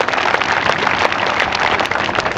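Steady, dense clapping from a large audience at a school event at Kardahan School in Jaunpur, sustained and even throughout without pause.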